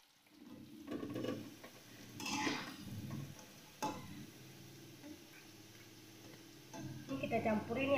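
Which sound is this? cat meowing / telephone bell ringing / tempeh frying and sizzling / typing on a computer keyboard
tempeh frying and sizzling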